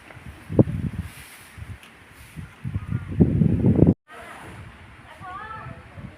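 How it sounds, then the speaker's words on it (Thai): Strong wind rustles the leaves of pine trees at a riverside hill resort in Nakhon Nayok, Thailand. Gusty broadband noise swells and drops, breaks off for a moment, then carries on with a few faint sounds mixed in. "ลมแรงมาก"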